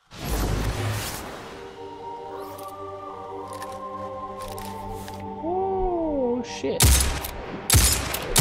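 Gunfire in Destiny 2: sharp, loud shots burst at the opening and again in a rapid cluster near the end, separated by scattered quieter pops over humming, whirring game ambience with a brief sliding tone, no talking.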